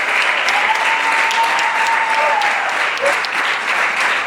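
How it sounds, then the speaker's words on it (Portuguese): A crowd gives loud, sustained applause for the parents at the closing service of Swamp Camp 2026. The dense clapping stays even and close from start to finish. "Un gran aplauso para ellos."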